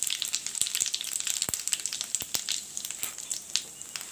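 Cumin seeds sizzle and pop in hot oil alongside bay leaves, a soft, steady fizz broken by scattered sharp crackles, fairly quiet and with no one talking.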